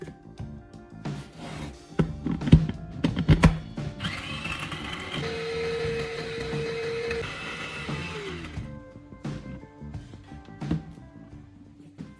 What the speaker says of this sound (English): Take several pieces of styrofoam and place them into a blender.